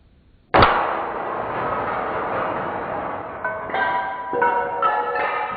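A crossbow bolt slams into a stack of thirteen plates with one sudden loud crack, followed by a long ringing, clattering rumble as the broken ceramic settles and shifts.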